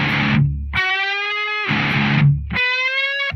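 Heavily distorted electric guitar plays the Final Fantasy X battle theme in two loud chugging bursts, each giving way to sustained harmonic chords before the next burst hits.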